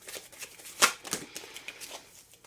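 Tarot cards are shuffled and drawn close by: soft papery riffles and flicks with a few sharper snaps, irregular and quiet, with no voices.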